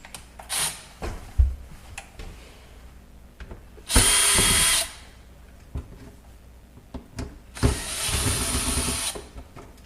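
Power screwdriver whirring to back out star screws from a Kenmore Ultra Wash Quiet Guard 3 dishwasher, two loud close bursts about a second each with handling clatter between them.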